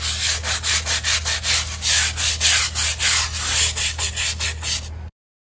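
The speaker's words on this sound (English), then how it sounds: "So I'm really just scrubbing on the tops." A stiff brush scrubs the tops of patio pavers treated with outdoor bleach, making loud, close rhythmic rasping strokes, about three per second, with no talking.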